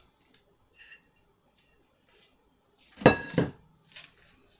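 Keto chocolate chip cookie dough pressed and smoothed into a small springform pan, giving faint scrapes and light metallic clinks, with a louder pair of knocks against the pan near the end.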